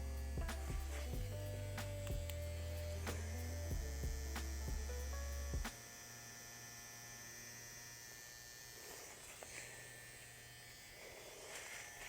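Wireless InkChum tattoo pen running at 7.2 volts, a steady close electric buzz with a low hum that stutters and pulses through the first half, then settles into a smoother, quieter whine.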